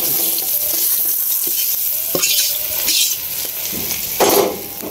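Pointed gourd slices frying in hot oil, with a constant sizzle broken by scraping stirs of a spatula against the pan and a few louder clatters, close and alone with no talk.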